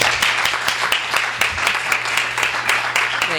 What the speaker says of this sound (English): Please do give me a warm round of applause for Max Brooks